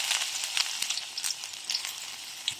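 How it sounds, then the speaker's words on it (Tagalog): Finely sliced ginger sautés in a hot wok with oil, making a close, steady sizzle with bright crackling pops and no voices. "Dito na po tayo magigisa."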